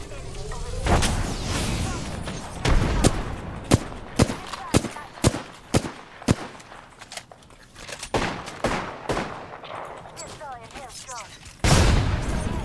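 Video game firefight with a thrown frag grenade: sharp rapid gunshots crack in irregular bursts, with a heavy boom at the end and players' voices calling out over the action.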